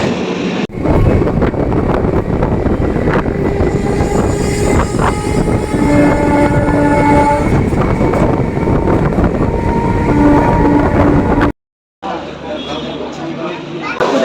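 Steady loud rumble of a moving train near Sealdah station in Kolkata, running continuously with rattling carriage noise and some background voices, then a brief cut and a quieter stretch at the end.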